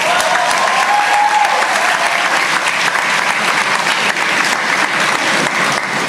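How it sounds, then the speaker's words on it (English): Graduates and guests at a community college graduation ceremony clapping loudly, a dense, steady roar of applause throughout with no gaps. "Give yourself a round of applause."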